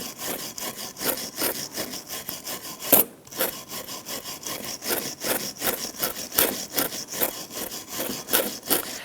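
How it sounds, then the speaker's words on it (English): Stiff bristle brush scrubbing the brake slider surface on a 2008-2013 Nissan Rogue rear brake, quick close back-and-forth strokes in a steady rhythm with one brief pause. "Using a bristle brush, go ahead and clean the face here where these slider shims are going to go."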